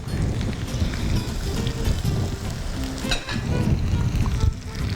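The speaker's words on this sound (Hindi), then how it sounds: "इनको मैं थोड़ा सा फ्राई कर लूँगी।" Chopped vegetables frying in a pan for sabzi masala, a loud, dense sizzle with stirring clatter running steadily throughout, close up and without speech.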